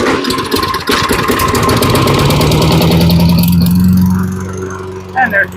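An old Tecumseh lawn mower engine is cranked and catches, then settles into a loud steady running drone close by, with a person talking over the start.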